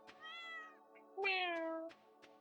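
A cat in the Stardew Valley farming game meows twice, a short call followed by a longer, louder drawn-out one, with soft clicking game sounds in between.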